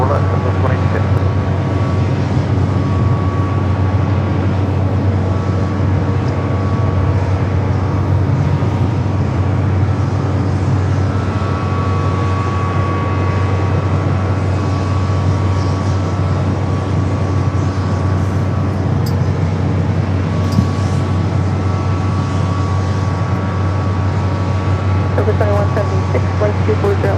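An airliner taking off from runway 24 left at LAX, a steady low engine roar heard from a distance that holds evenly for the whole stretch, with faint tonal whine above and a radio voice speaking now and then.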